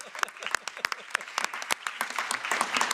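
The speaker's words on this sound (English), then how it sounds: "you're not a very clappy audience, but we can maybe just give a clap" An audience claps at a panel discussion on sustainable textiles, with sparse, uneven individual claps at moderate distance that thicken slightly toward the end, and some faint talk mixed in.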